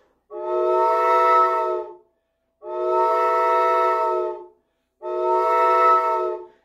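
A train whistle sounds three long, loud, steady blasts over a valley, each lasting close to two seconds and separated by short gaps, with no one talking.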